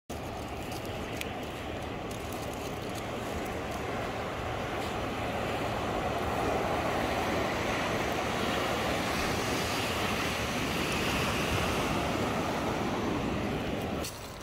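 Ocean waves breaking and washing up on a beach, a steady loud surf roar that continues throughout, with wind buffeting the microphone.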